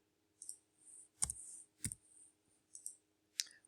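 Computer mouse clicks while adding a policy in insurance software: about half a dozen crisp, close, quiet clicks spaced irregularly over a few seconds, some in quick doubles, with no talk.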